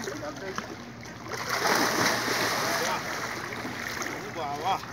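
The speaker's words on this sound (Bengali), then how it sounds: "জাল ফেলবো" A fishing net is flung from a boat on a river and lands on the water with a broad, rushing splash midway through, surrounded by lapping water and wind, with voices talking nearby.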